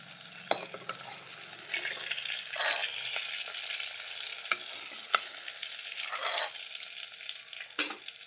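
Green chillies fry in a hot pan with a steady close sizzle, broken by occasional scrapes and stirs of a utensil against the metal.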